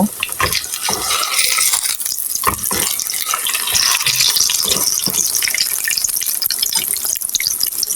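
A vegetable and egg snack frying crisp in a pan, a loud, dense sizzle and crackle running steadily throughout with a few knocks of the spatula.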